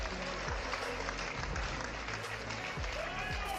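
Dense, steady applause from a press conference audience, a continuous roar of many hands clapping at close range that holds level throughout without a break.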